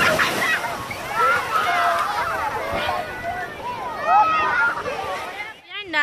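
Sea water sloshing and splashing around legs and feet at SeaCliff Beach, a steady wash of swirling water close by, with people talking and family chatter throughout.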